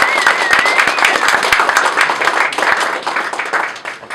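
A crowd at a Medal of Honor reception for a 65th Infantry Regiment veteran applauds warmly, dense clapping with individual sharp claps standing out and faint voices mixed in.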